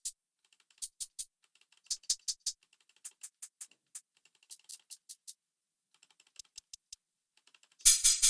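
Crisp hi-hat hits from a boom bap drum kit sample pack play one after another, short bright ticks in uneven clusters with silent gaps, ending on a louder, fuller hit.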